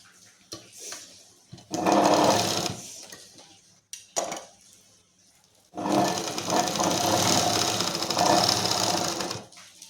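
A sewing machine stitches a one-piece garment, running in two loud, close bursts of rapid mechanical whirring. A short stop with faint handling noises separates them.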